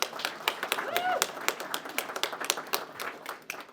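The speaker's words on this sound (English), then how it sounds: "Can we give her a round of applause one more time?" An audience at a Medicaid awareness event gives a short, light round of applause, scattered claps close by, with a brief voice sound partway through.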